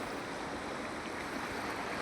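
Faint, steady rushing of the wide Kalubhar river near Umrala in Bhavnagar, Gujarat, a soft, even wash of flowing water with no voices.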